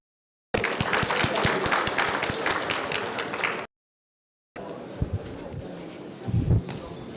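Audience applause welcoming a speaker at an authorized economic operator conference, a sustained wash of clapping for about three seconds, then a brief gap and a second burst of clapping with some low thumps.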